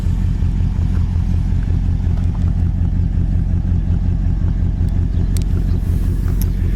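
A 1956 Ford two-door car with its engine running at idle, a steady close low rumble with an even pulsing throb and no revving, with a few faint clicks near the end.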